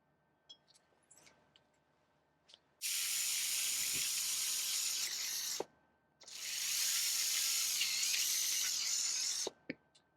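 A surgical power drill bores through bone during minimally invasive bunion surgery, giving two sustained high-pitched whining, hissing bursts of about three seconds each, close and clear, separated by a brief pause, with faint handling clicks around them.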